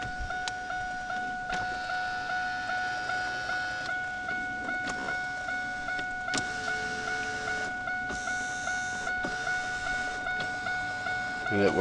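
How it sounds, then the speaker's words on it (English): Power driver's seat motor in a 2002 Chevrolet Camaro Z28 convertible whirs in short repeated bursts, stopping and restarting, against a steady electronic tone and faint clicks nearby. "Got your power driver's seat here."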